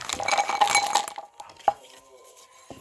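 Ginkgo nuts pour into an onion mesh bag with a dense, bright rattling clatter for about a second, then a couple of isolated close clicks follow in the quiet.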